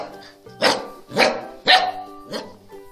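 A dog barks four times in a children's alphabet phonics song, sharp and close, at a steady half-second rhythm, with the last bark softer.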